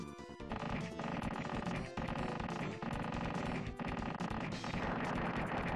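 Weapon fire in the video game Earth Defense Force, with the trigger held down for a continuous, dense stream of rapid shots and crashes, fairly quiet overall and with no pauses.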